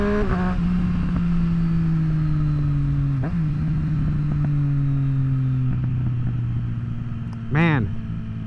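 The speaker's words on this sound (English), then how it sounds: "Man, I love like manual downshifts." A 2024 Triumph Street Triple RS engine running steadily on the road, its tone dropping in steps through manual downshifts with brief blips between, ending in a sharp rising rev; loud and close throughout.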